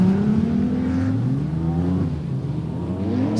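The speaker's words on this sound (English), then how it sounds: "the one lone soul Ford Sierra working its way down the back straight" Race cars, mostly BMWs plus a single Ford Sierra, run down the back straight of an oval circuit at a charity race meeting, engines droning loudly and steadily with shifting pitch as they accelerate, no voices over them.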